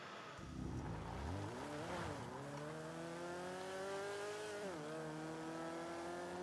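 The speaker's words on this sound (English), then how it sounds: "Just listen to that beautiful V12." A V12 engine in the FiveM video game revs and climbs through gears, with a steady rising howl, a brief dip mid-way, then more sustained acceleration, loud and continuous without talk.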